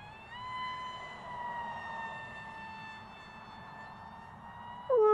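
Electric motor of a small RC model glider at full throttle, a steady high-pitched whine that holds and shifts slightly in pitch as it passes, then rises abruptly at the end, with no talk.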